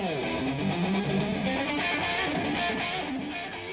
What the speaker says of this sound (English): It's this distortion which creates the character of the Marshall sound.